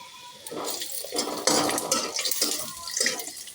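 Peanuts, onion, green chili, beans and peas frying in white oil in a pan produce bursts of loud hissing and spattering, rising and falling in waves close up.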